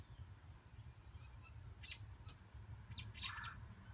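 A blue jay gives a few short, scratchy chirps and squawks against a quiet low background hum.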